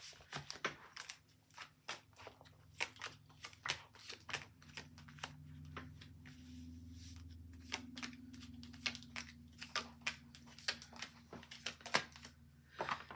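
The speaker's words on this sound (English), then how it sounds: "Another shuffle and then arc over the top." Tarot cards shuffled by hand, a string of quick crisp riffling bursts and soft slaps, close but quiet, over a faint low hum.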